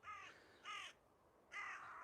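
Territorial crows caw in three harsh bursts with pauses between them while chasing off an intruding crow, fairly distant and alone over quiet background.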